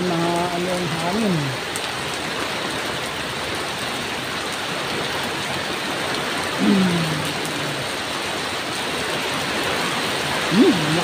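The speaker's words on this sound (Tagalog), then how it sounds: "Na malakas po ang ulan at talaga mahangin din oh." Heavy rain with strong wind outdoors in a storm, a dense, constant roar of rainfall, with a few brief faint voices under it.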